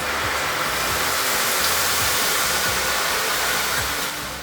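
Hot cooking oil poured over fried chicken sizzles loudly in a continuous, dense hiss with faint crackles throughout, close by and with no voices.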